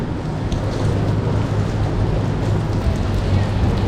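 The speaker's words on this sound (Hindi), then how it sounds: "बाहर तो भाई फुल बारिश हो रही है, वो देखो" Heavy rain pours down outside a mall in Banja Luka, a steady, dense hiss of falling water that stays constant throughout with no talking over it.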